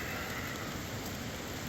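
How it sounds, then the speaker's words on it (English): Steady, dense patter of rain on a taut tent roof overhead, a continuous hiss with no voices. "it is currently raining"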